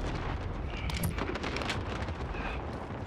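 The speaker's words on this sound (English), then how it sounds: "Cluster strike inbound." Cluster strike explosions in Call of Duty: Modern Warfare multiplayer, a dense, continuous rumble of overlapping blasts with sharper bursts near the one-second mark, loud and sustained for the whole stretch.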